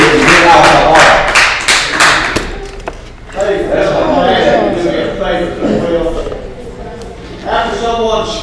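An audience at a Bogalusa city council meeting applauds with a dense burst of clapping lasting about two seconds, then a voice speaks over the fading room noise and light scattered claps.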